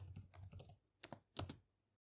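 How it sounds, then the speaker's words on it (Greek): Quick bursts of computer keyboard keystrokes as a password is typed, a rapid run of clicks followed by two short separate clusters, close and clear with no talking. "πληκτρολογήστε τον κωδικό σας παρακαλώ"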